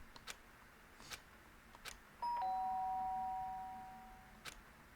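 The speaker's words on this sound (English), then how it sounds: "The sharp sound of the doorbell pierced my sleepy haze and pulled me back to the real world" A doorbell in the video game Danganronpa: Trigger Happy Havoc chimes once, a clear two-tone ding-dong that rings out and fades, with a few faint clicks around it in a quiet room.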